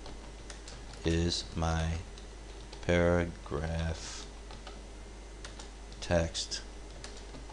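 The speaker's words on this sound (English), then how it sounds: "I'll just start typing in here" Computer keyboard typing in CorelDRAW X6 text work, a steady close patter of clicks running underneath a man's speech, with short bursts of talk breaking over it.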